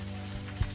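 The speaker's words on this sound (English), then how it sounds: "standing here in the rain, guarding a wreck" Steady rain from the video game Unavowed, a continuous hissing wash of falling drops with a low rumble underneath and a soft thump.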